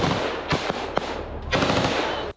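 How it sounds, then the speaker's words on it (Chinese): Machine gun fire in wooded combat comes in rapid bursts of sharp, loud shots, with short gaps between volleys. "还好队友迅速架起机枪"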